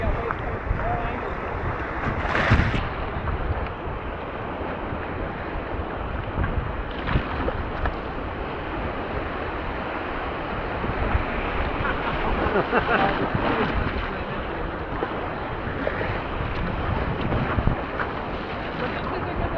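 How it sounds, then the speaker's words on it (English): Rough water chops around a sea kayak at Hurricane Pass, steady broadband wash and wind noise throughout with a few louder splashes. "But you got waves coming from all angles."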